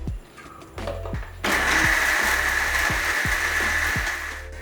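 A mixer grinder whirs loudly, grinding Goan vindaloo masala into a fine paste, starting with short pulses before settling into a steady high whine with rhythmic knocking underneath, close and alone.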